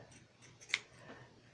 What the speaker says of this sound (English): scissors like these, around the curve,